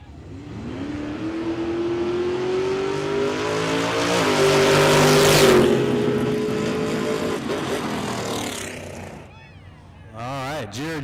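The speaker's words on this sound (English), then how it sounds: "I heard Andrew Scott whop the throttle a couple times" Drag race cars at Ozark Raceway rev loudly at a no-prep event, including a 74 Nova, with engines rising to a sustained roar before cutting back to sharp throttle blips, under an announcer's commentary.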